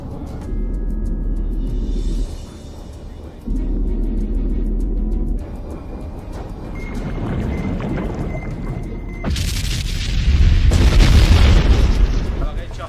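A torpedo explosion striking canyon walls underwater in a submarine action movie, a long stretch of deep rumbling and churning that builds into loud, roaring bursts toward the end.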